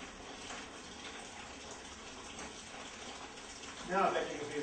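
Hot water poured from a bucket, a soft continuous gushing and splashing at moderate distance, swelling into a brief louder splash near the end, with voices talking over it.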